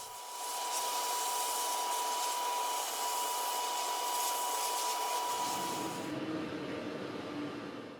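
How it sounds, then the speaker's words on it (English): Shot blasting rust off the sill of a 36-year-old BMW E30 Touring, a loud continuous hiss of abrasive blasting that runs steadily for the whole stretch with no pauses. "I'm going to shot blast as much of the rust off as possible."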